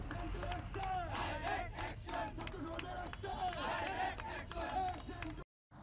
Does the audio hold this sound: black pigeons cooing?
no